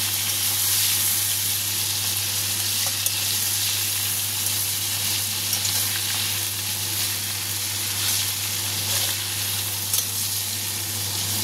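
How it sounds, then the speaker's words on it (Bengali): Prawns frying in a pan with ginger paste nearby, a steady dense sizzle running unbroken and fairly loud throughout, with a constant low hum beneath and no talking. "মাছটা ভাজা হয়েও গেছে, যেহেতু চিংড়ি মাছ বেশি ভাজার দরকার পড়ে না, অল্প ভাজলেই হয়ে যায়"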